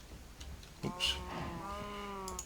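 A cow in the Minecraft Feed The Beast modpack gives a single drawn-out moo, clear and fairly close after a short click, over a quiet game background.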